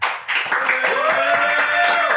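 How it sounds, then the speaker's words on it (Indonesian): A studio audience at a debate talk show claps in a brief, lively burst, moderately loud, with a voice and tonal sounds running over the clapping. "Tepuk tangannya mana?"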